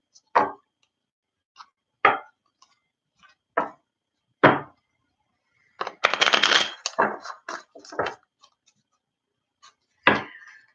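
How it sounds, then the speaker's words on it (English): Tarot cards being shuffled by hand: separate crisp riffles and slaps at roughly one-to-two-second intervals, with a longer flurry of rapid card flicks in the middle, close and clear against silence. "I'm just getting this feeling that I need to shuffle this good here"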